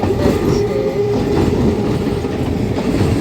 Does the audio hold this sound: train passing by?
yes